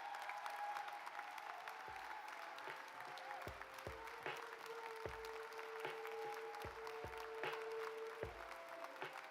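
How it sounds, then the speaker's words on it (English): An audience applauds at a ceremonial swearing-in of the Congressional Black Caucus, steady sustained clapping from a crowd in a large hall, with a few louder thumps scattered through it. "Give him a round of applause."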